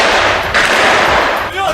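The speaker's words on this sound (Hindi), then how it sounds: "अल शिफा अस्पताल में चल रहे इजराइल के ऑपरेशन के वीडियो में वो हमास के लड़ाकों पर फायरिंग करते नजर भी आए" Israeli soldiers fire guns during an operation at Al-Shifa hospital, heard in news footage as loud, dense, continuous gunfire that fills the whole short moment.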